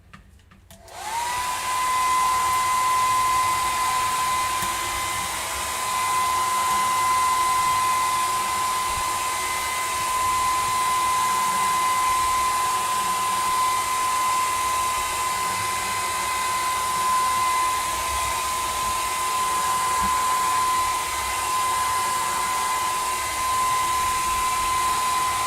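A hair dryer starts up and runs steadily for the whole stretch, a loud constant whine with an even hiss of rushing air as it dries something wet.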